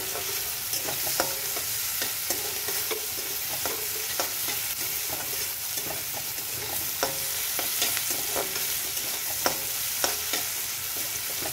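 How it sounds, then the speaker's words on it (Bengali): Onion and garlic fry in a pan for mixed greens bhaji, a steady close sizzle under frequent scraping stirs of a spatula that tick along throughout, with no talk. "তো পেঁয়াজটা ভাজা একটু হোক।"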